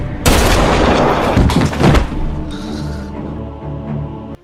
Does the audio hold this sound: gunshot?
yes